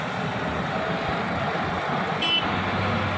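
A 16-wheel Tata truck grinds up a mountain ghat road, its engine holding a steady, droning rumble close by, with a brief high beep partway through.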